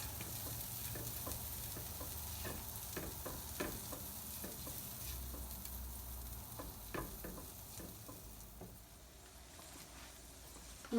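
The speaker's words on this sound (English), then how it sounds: "once the pan is hot, you're gonna add half the butter stick" Butter melting in a hot pan, a quiet steady sizzle with intermittent light ticks and scrapes of a utensil, faint and close, with no talking.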